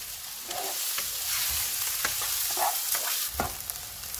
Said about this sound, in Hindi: ऑयल गर्म हो गया, इसमें बड़े साइज़ का एक प्याज डालेंगे और 2 मिनट तक भून लेंगे।